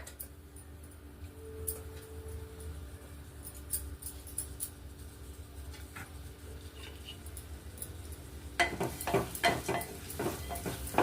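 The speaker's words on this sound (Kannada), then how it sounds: "1 ಸ್ಪೂನ್ ತುಪ್ಪ ಹಾಕ್ಕೊಂಡು ಅದಕ್ಕೆ ಈ ತೊಳೆದಿಡುವಂತಹ ಹೆಸರುಬೇಳೆನ ಹಾಕ್ಕೊಂಡು ಹುರ್ಕೋಬೇಕು." Moong dal roasting in ghee is stirred in a pan, giving a soft low sizzle with gentle scraping that grows into louder, busier scrapes and clinks toward the end.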